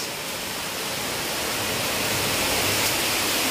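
An underground river flows inside Jatijajar cave in Kebumen, a broad, steady rushing of water that fills the space evenly and swells slightly louder toward the end, with no voices.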